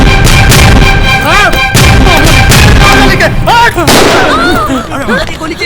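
Gunfire erupting inside a bank during a Hindi action film scene, loud sharp bursts of shots layered over shouting and screaming voices, dense and chaotic throughout.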